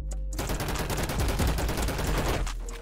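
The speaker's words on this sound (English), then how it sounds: "Is someone shooting at me?" Rapid gunfire from the TEC-9 in the Roblox game Energy Assault, a loud, dense burst of shots rattling close by for nearly three seconds.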